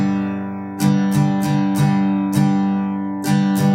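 Acoustic guitar strummed alone in a steady pop rhythm with tied quarter notes, each bright downstroke chord ringing into the next, several strums spread across a few seconds.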